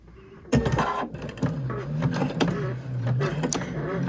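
A Pfaff sewing machine stitching a quilt block, rapid mechanical needle chatter starting abruptly, with brief pauses and clicks between short runs of stitching, close and fairly loud.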